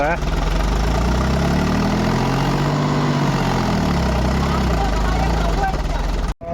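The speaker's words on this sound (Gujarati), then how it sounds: "ટ્રેક્ટર આંચકા મારે એટલે ડ્રાઈવરે ઘણો આંચકા મારે" Tractor stuck while pulling a load of manure, its engine roaring loud and steady at close range with deep low rumble throughout, cutting off abruptly near the end.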